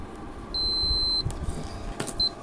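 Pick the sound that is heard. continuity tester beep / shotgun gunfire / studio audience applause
continuity tester beep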